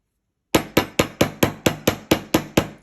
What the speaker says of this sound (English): Now we're going to come back in and we're going to hammer the whole length.